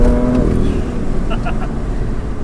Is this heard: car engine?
yes